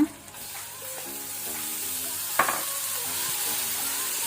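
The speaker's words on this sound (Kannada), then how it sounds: "ಟೊಮೆಟೊ ಸಾಫ್ಟ್ ಆಗೋ ತನಕ ಫ್ರೈ ಮಾಡ್ಕೊಳ್ಳುವ." Tomatoes fry with ginger garlic paste in a pan for a vegetable kurma, giving a steady hissing sizzle throughout, with a brief stirring clatter in the middle and no talking.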